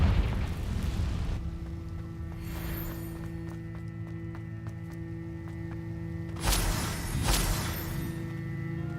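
A Confringo fire spell explodes in a cave in Hogwarts Legacy, a rushing burst followed by a sustained humming drone, then two sharp booming blasts close together near the end.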